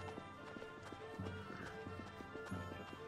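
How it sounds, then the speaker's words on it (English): Horses gallop in a video game battle, a steady drumming of hoofbeats at close range with a brief whinny, over loud game noise with no talk. "Let's get rid of those horses."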